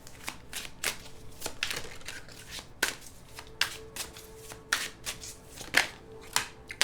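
Tarot cards being shuffled and handled, a quick irregular run of crisp riffling snaps and soft papery flicks, close and fairly loud, with no talk.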